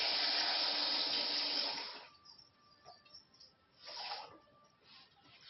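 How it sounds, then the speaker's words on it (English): Water runs from a tap into a pan to cover eggs for boiling. A strong, steady gush lasts about two seconds, then fades to faint trickles and a brief splash. "Cover the eggs with water."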